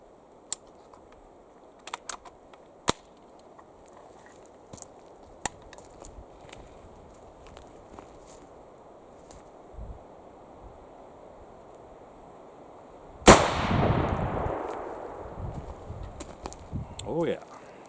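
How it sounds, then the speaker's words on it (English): A loud, sharp single gunshot from a .58 caliber Needham conversion rifle cracks outdoors, followed by a long decaying rumble and echo, after a stretch of quiet wind noise and a few small clicks. "Let's shoot one more"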